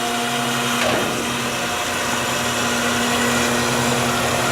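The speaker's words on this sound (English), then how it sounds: "We're going to start our tumbler." A seed treatment tumbler and elevators run together as a steady, loud mechanical drone with a constant hum and whir, a brief knock near the start, and no talk.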